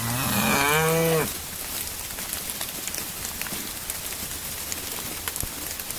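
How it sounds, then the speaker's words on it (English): A mother cow moos to her newborn calf during a blizzard and ice storm, one loud, close, drawn-out low call that fades into steady wind and falling-ice noise. "Mama cow talking, or Nelly mama talking to the baby."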